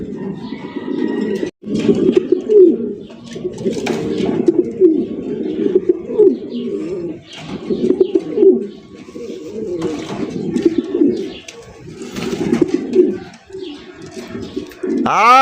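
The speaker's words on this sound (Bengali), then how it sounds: "দেখার মতো টপ কোয়ালিটি একজন ইন্দোনেশিয়ান রেসার কবুতর" An Indonesian racer pigeon coos repeatedly at close range, in rolling low bursts that continue for several seconds with brief pauses, while someone talks over it.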